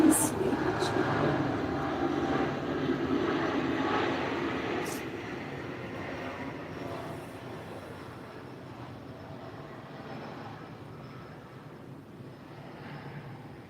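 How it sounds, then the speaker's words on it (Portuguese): A broad, low airplane rumble overhead during a quiet gathering, loudest at the start and slowly fading to a steady distant drone; no talking. "E aí aparece um som. E a mente já dá um nome. É um avião."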